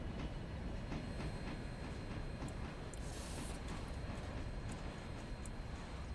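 Steam train in the Railroader video game rolling along with steady rumble and faint rail clicks, slowly coming to a stop without air brakes hooked up; no talking.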